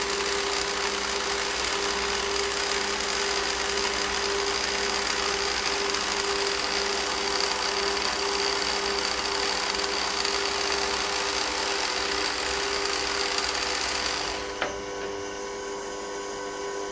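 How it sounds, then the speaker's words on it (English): A cylindrical grinding attachment runs its grinding wheel across a workpiece in a workshop, giving a steady, loud, continuous whine and hiss that holds evenly before cutting off abruptly near the end, leaving a quieter hum. "you may or may not be able to see the sparks coming off as I traverse under the grind wheel and back."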